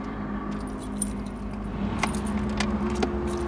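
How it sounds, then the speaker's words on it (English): Car keys jangling as a key goes into the ignition of a Mercedes-Benz, a close metallic clinking in a few small bursts over a low steady hum. "So I have the key right here."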